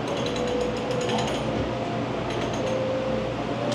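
A pressed penny souvenir machine cranks with a continuous grinding, clicking ratchet of gears, steady and moderately loud against a background hum, with no voices.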